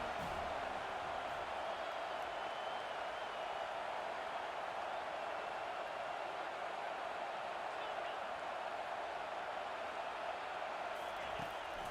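Continuous crowd roar fills a stadium in an NCAA college football video game as fans back the defense on third down, a steady wall of noise with no breaks.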